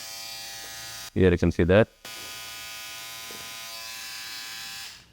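Philips OneBlade QP2724/10 hybrid trimmer and shaver switched on, giving a steady high electric buzz that runs throughout, broken briefly by a person talking near the start.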